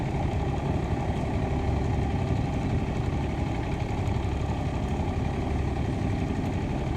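A boat engine idles steadily in neutral with a low, even rumble and a continuous throbbing chug, unchanging throughout with no voices.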